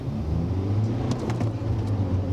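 A BMW E87 120d diesel hatchback pulls away hard from a stop, its engine droning loudly and steadily from inside the car with a few faint clicks over the top.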